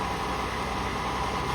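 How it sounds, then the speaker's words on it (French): A Cummins six-cylinder diesel driving a water pump at a jungle gold mine, a steady unbroken drone with broad hissing noise, constant and moderately loud. "il a une corde avec l'accélérateur qui est relié à la pompe à injection du moteur Cummins 6 cylindres"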